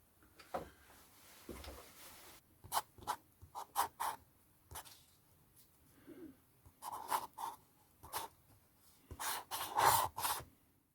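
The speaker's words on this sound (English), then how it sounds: "Let me write that down" A measurement jotted down by hand, soft close pen scratches and strokes arriving in short irregular bursts with quiet gaps between.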